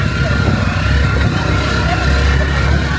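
A motorcycle rattles along a rough, potholed road in Coron, its engine a steady loud drone mixed with bumpy road noise, while a voice talks over it.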